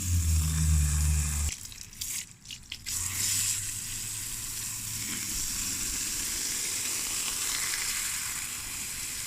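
A K&N air filter being rinsed with running water, a steady close hiss of spray after a brief louder rush at the start, continuing evenly to the end.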